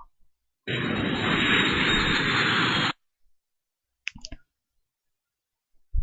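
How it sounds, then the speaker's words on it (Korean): An airplane passing in a stuffed-doll asylum horror video game: a loud, flat roar of engine noise lasting about two seconds that cuts off abruptly, followed by silence and a few brief clicks. "비행기?"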